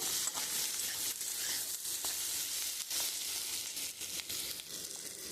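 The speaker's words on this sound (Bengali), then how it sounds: "আমি এর মধ্যে পেঁয়াজটা দিয়ে দেবো আর পেঁয়াজটা একটু লাল লাল করে ভেজে নেব" Onion frying in a pan for a pumpkin and prawn dish, with a steady, loud, continuous sizzle and a few light stirring scrapes close by.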